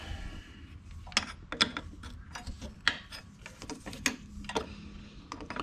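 A wrench tightens a bolt on a John Deere zero-turn mower, giving a run of small metallic ratcheting ticks and clicks, close and soft, in irregular quick strokes.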